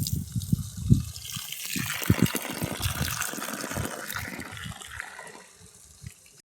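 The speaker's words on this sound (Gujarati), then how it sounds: "જો અહીંયા પાણી હલે છે" Irrigation water gushing and sloshing through a channel in a wheat farm field, a loud, continuous, close rush with a churning low rumble that thins out and stops abruptly near the end.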